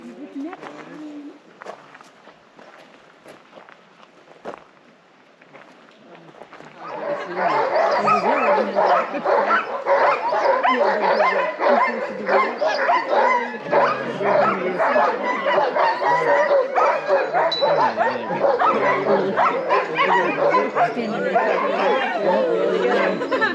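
A group of dogs bursts into a loud, sustained chorus of yips, barks and whining whimpers after a quieter start, the excited voices overlapping close by.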